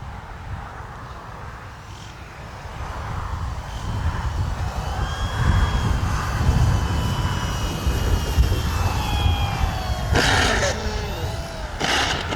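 An RC Tecnam model airplane drones overhead, its engine note wavering as it slows on approach to land, with a few brief sharper bursts near the end.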